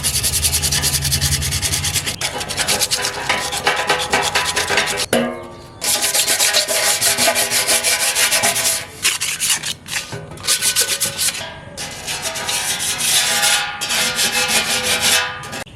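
Rough hand scraping of a box surface before applying putty, a loud continuous rasping and rubbing in long strokes with brief pauses between passes, close up and with no talking.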